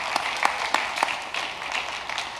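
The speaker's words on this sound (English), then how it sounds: "So give yourself a big round of applause." Applause from an audience at an academic bowl event, a steady wash of clapping with a few sharper individual claps near the front, continuing evenly throughout.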